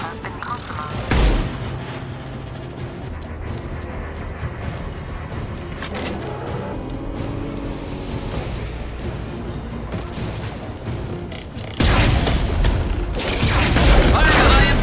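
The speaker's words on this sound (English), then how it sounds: "Firing a high impact shot!" Gunfire and heavy impact shots in the video game Mass Effect 2, with a loud burst early on, a steady stream of combat noise and a powerful roaring barrage at the end, voices talking throughout.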